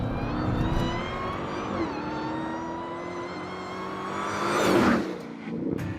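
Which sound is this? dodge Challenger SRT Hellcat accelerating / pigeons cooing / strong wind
dodge Challenger SRT Hellcat accelerating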